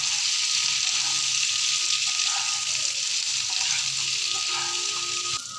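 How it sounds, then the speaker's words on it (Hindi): Spices stirred into boiled potatoes frying in a pan for jeera aloo, a steady loud hiss and sizzle with soft scraping stirs and occasional clinks throughout, close up and without talk. "हमने इसमें सारे मसालों को डाल दिया, इसको मिक्स कर लेंगे।"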